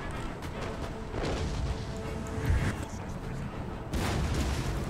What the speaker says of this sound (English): Let's get howitzers to hit.